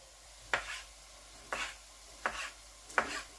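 Four separate knife cuts slice wild boar and pork sausage into strips, each a crisp chop on a board, spaced about a second apart, close and alone in a quiet room.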